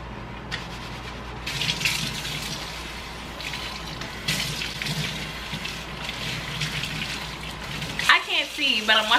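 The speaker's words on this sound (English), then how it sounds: "But I'm washing my hair again." Running water from a tap while natural curly hair is washed, a steady splashing flow with brief surges of spray, ending with a louder burst of handling noise.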